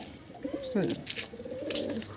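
Eight- to ten-year-old high-flying tumbler pigeons in a loft give soft, close coos and murmurs, with a brief flutter of other bird sounds, under a voice speaking.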